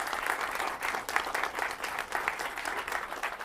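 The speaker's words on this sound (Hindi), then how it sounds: "जरा जोरदार तालियों के साथ इन तमाम खास मेहमानों का स्वागत कीजिए।" Steady, dense applause from an audience welcoming poets at an Independence Day kavi sammelan, sustained clapping at even loudness throughout with no talk over it.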